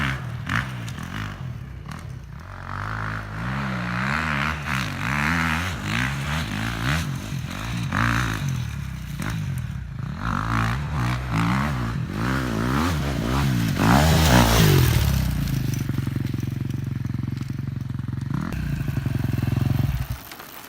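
A motocross dirt bike rides a practice moto, its engine revving and dropping again and again as it works through gears, close and loud for about twenty seconds with no talk.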